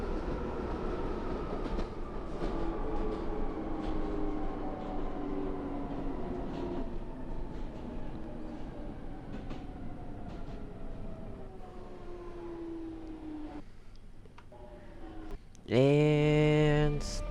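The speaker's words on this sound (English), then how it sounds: "There's another train." A train in Minecraft runs on rails with a steady rumble and a slowly falling whine over about fifteen seconds, then a sudden loud, tonal screech or horn-like burst near the end; no voices.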